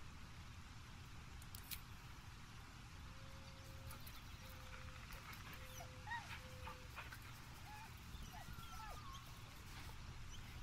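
A dog in Baldur's Gate 3 whimpers and yips faintly while being petted, with several short, high, thin whines spread over a low, steady game ambience.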